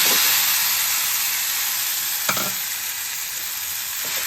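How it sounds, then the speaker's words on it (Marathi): Maggi noodles frying in a pan with burnt onion and spices give off a steady, close sizzle with a couple of brief scrape-like stirring clicks, and no one speaks. "कांदा पूर्ण करपलाय, त्याच्यात आपण टाकूया आपली मॅगी"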